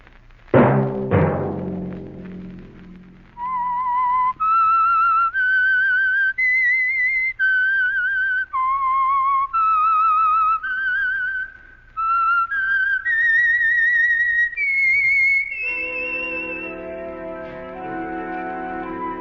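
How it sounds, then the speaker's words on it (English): A person whistles a slow, steady melody of sustained clear notes after a brief opening chord, ending on a held orchestral tone. "Let that whistle be your signal"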